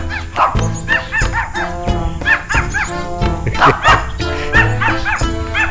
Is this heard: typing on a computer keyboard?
no